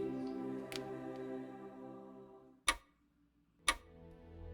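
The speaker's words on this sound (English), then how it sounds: "Faintly, I hear the ticking of time sounding somewhere." A clock ticks in the visual novel game Cupid Parasite, two sharp, isolated ticks about a second apart sounding over a quiet sustained musical drone.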